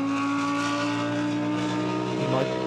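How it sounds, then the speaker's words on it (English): A Lamborghini Huracan GT race car rounds the final corner of a qualifying session at a Hungarian circuit, its engine a steady sustained drone at a distance with a brief rise near the end. "it looks as though Coach McKenzie in the Lamborghini Huracan coming into the 14th and final corner"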